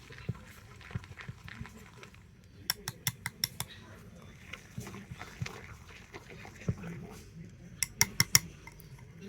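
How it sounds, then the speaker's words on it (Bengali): Whisking batter of milk and baking soda in a bowl: bursts of quick metallic clinks and taps of the whisk against the bowl, coming in short rhythmic runs over a low kitchen rumble. "দুধ দিয়ে ব্যাটারটাকে কিন্তু আবারও খুব ভালো করে ফেটিয়ে নেব"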